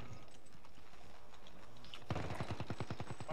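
Rapid gunfire in the video game Call of Duty: Warzone, a burst of evenly spaced shots starting partway through and running to the end, loud and close after a quieter stretch of game ambience.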